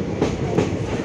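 A passenger train travelling from Haldwani to Delhi rumbles steadily on its rails, with two rhythmic wheel clacks over a continuous low roar heard from inside a carriage.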